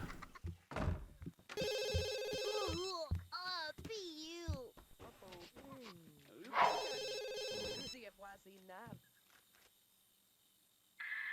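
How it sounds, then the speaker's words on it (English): A phone in The Sims 2 rings with repeated bursts of a bright electronic ringtone, heard alongside chirpy game-character voices and background game sounds. "Oh, her phone's ringing."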